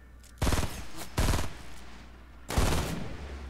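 Gunfire in a video game while sniping an enemy comes as three loud, close bursts of rapid crackling shots with short pauses between them, and no talk over them.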